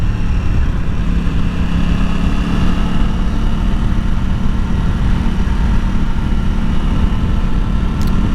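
A 2021 Aprilia Tuono 660 motorcycle engine runs steadily while riding, a continuous loud low drone with a constant hum and no speech over it.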